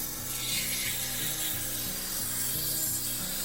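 Hand sanding wood with 320 grit sandpaper, a steady hissing rasp with a rhythmic back-and-forth scrubbing pulse, close and continuous, no talking.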